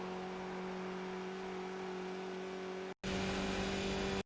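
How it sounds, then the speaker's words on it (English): A Skip Barber race car engine in iRacing at Watkins Glen holds a steady, loud drone with no talk over it, cut off abruptly for a moment before returning. "You want to get immediately back on the throttle to keep your speed high"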